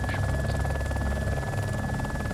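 Helicopter in the survival game DayZ, a steady whirring rotor drone holding at even loudness throughout, with a faint voice briefly underneath.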